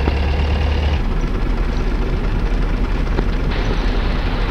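Jet engines roar loud and steady on a runway in the DCS flight simulator, with A-10 and Harrier aircraft spooling up for takeoff; a heavier low rumble in the first second gives way to a continuous broadband engine drone.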